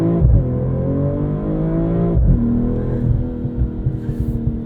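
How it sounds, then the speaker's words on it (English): A 2022 BMW M440i xDrive Gran Coupe accelerates hard from close by, its engine note climbing steadily, with a brief dip and sharp pops from the exhaust at the gear changes. It is loud and continuous, with no talking. "Those bangs from the exhaust between shifts are pretty awesome."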